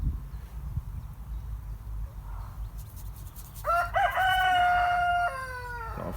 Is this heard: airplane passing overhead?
no